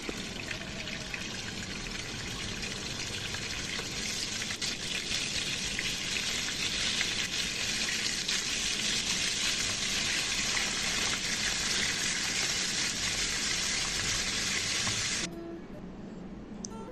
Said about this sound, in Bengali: মধ্যে আমি মাছগুলো ছেড়ে দিব।